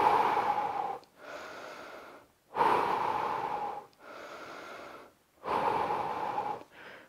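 Deep breathing during an at-home fat-loss workout: three long, loud inhale-exhale cycles in a steady rhythm, each a few seconds, with brief quiet gaps and a shorter breath at the end.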